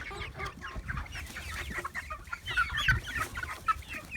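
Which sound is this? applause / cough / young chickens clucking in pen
young chickens clucking in pen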